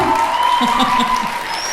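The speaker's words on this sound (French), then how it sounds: "applaudissez encore plus fort" Audience applause rings out in a hall, a dense steady wash of clapping with a sustained tone running underneath.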